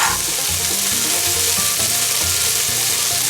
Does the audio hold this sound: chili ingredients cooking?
yes